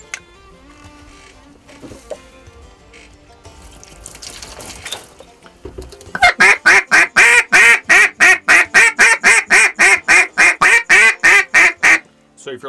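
A Zink NBG Z-Cut duck call is blown in a long rapid series of loud, evenly spaced quacks near the mic, following several seconds of quieter background noise.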